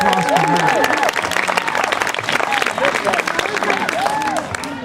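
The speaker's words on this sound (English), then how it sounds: "Let's give a round of applause for that." Steady audience applause from a crowd at a children's event, dense clapping filling the whole stretch with some cheering and chatter mixed in.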